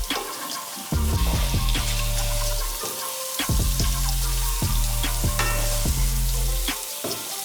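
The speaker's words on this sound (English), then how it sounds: "Keep mixing the garlic regularly so it doesn't stick to the bottom of the pan" Garlic cloves coated in corn flour fry in oil in a pan, giving a loud, close sizzle over repeated scraping and clattering strokes as they are stirred, with no one speaking.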